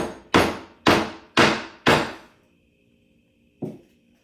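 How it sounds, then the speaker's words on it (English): A hammer strikes a piece of tin four times in an even rhythm, each blow loud and close with a short ringing decay, then a pause and one fainter final tap. "I'm going to hammer some tin a little bit."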